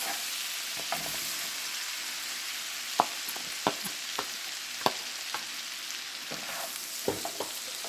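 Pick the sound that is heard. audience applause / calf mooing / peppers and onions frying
peppers and onions frying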